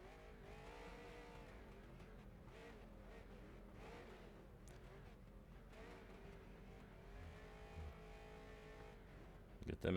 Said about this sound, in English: Get them engines warmed up.